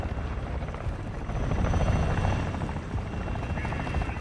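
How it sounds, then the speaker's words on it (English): A helicopter in the video game Call of Duty: DMZ, Modern Warfare II, keeps up a steady rotor thrum that swells slightly midway, heard clearly behind faint background game sounds. "Don't push where that chopper is, it'll start shooting at you."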